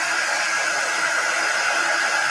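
A hair dryer blows a steady, loud, close whoosh throughout, drying paint on a fabric strip rail sign made with silkscreens. The airflow holds constant, with no talking.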